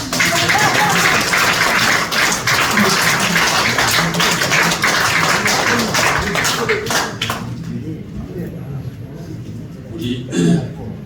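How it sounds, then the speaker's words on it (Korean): An audience of pastors at a church lecture on arthritis claps in a dense, sustained burst that fades out after several seconds, followed by a few scattered claps and some voices. "박수 쳐요."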